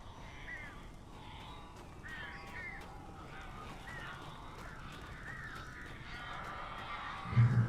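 Crows caw repeatedly in Alan Wake Remastered, harsh calls overlapping in irregular bursts over a low background rumble, moderately loud and near, with a thud near the end.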